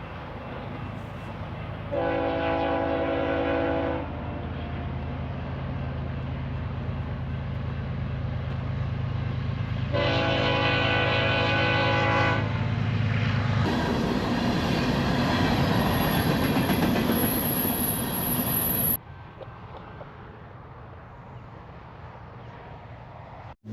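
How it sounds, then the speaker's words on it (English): A BNSF freight train rumbles past steadily in Montana, its horn sounding in two long blasts early on, followed by a high metallic squeal before the noise drops off. "it just happened that a BNSF train was coming while I was here"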